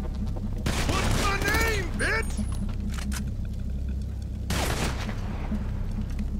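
Bursts of gunfire crackle in a Grand Theft Auto V heist shootout, two loud rapid volleys separated by a lull, with shouting voices over the first burst.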